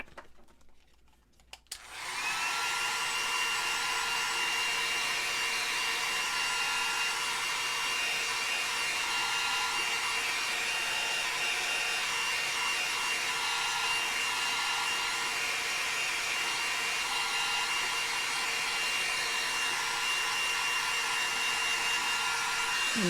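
A hair dryer switches on after a couple of seconds of quiet handling and runs steadily, drying an ink-painted craft background with a loud, even, close whirring blow that continues to the end.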